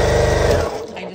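A sewing machine stitches a quilt block with a fast, steady mechanical whir close by for about half a second, then stops and fades into quiet room tone.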